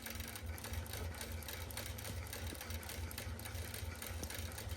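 A sewing machine stitching fabric binding, a fast steady mechanical whir with rapid needle clatter, faint and continuous.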